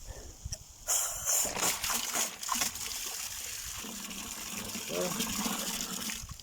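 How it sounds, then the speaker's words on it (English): Water sprays and gushes from a garden irrigation drip line in a vegetable bed, a steady hissing flow heard close by with some handling noise. "water is coming out of this drip line over here, that drip line over there"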